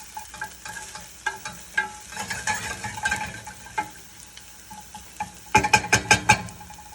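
Chopped garlic sizzles and crackles steadily in a hot pan for white bean crostini, with scattered utensil taps and a quick run of sharp clinks from stirring near the end.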